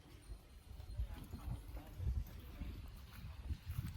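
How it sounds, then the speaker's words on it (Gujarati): Hooves clop unevenly on the ground close by, a mare shifting and stepping, with light wind noise underneath. "પૂનમ ઘોડી છે."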